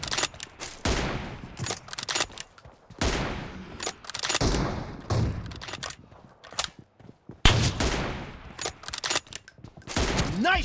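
Gunfire from a sniping shooter video game, set in a room, arrives in repeated loud bursts and volleys separated by brief gaps, some shots sharp and close, others rolling together into rapid fire.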